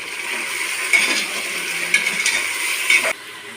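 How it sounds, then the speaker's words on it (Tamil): Tomatoes and onions sauté in a pan for a vegetable biryani, giving a steady close sizzle broken by three sharp metallic clinks of a spoon against the pan. "தக்காளி வெங்காயம் எல்லாம் போட்டு வதக்கியாச்சு"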